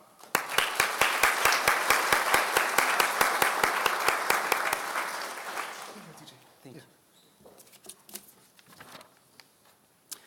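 Dense, steady applause from a crowd at a university commencement ceremony fills the first five seconds, then fades into scattered claps and faint room noise.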